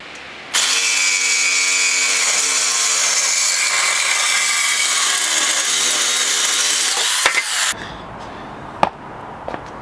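A power saw cuts through the steel exhaust pipe of a C5 Corvette during a Billy Boat Bullet exhaust install, a loud steady grinding whine running unbroken for about seven seconds before stopping, followed by a few clanks and handling noises.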